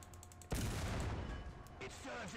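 A War Thunder tank cannon fires a HEAT-FS shell at an IS-6 at 300 meters, one sudden loud blast followed by a rumbling, decaying roar, with faint engine hum before the shot.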